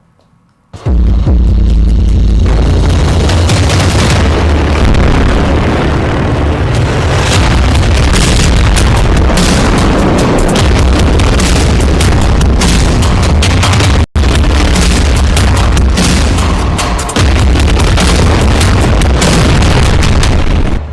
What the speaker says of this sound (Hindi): अब रफा में 2-2 हजार किलो के बम गिराए जा रहे हैं